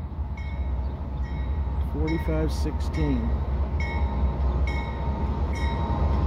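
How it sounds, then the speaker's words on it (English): A Norfolk Southern gondola freight train rumbles past close by at restricted speed with steady rolling wheel noise, while someone briefly speaks over it partway through. "This is the gondola train, 61C."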